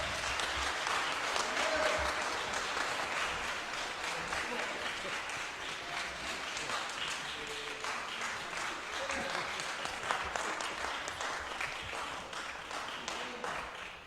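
A church congregation claps hands in praise, a continuous dense applause from many people filling the room, with voices and cheers mixed in throughout.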